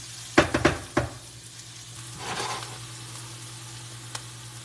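Onions caramelize in a pan with a soft, steady sizzle, opened by a few sharp clinks of a utensil on the pan and followed by a brief stir, over a low hum.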